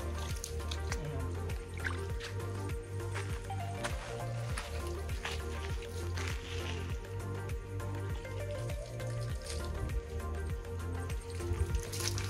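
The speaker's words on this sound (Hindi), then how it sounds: "ये बिल्कुल शुद्ध पानी है, बहता हुआ पानी जो इस नाले में आता है" Clean flowing water running through a small stream channel, a steady, close liquid trickle with dripping and splashing textures continuing throughout, with no talking.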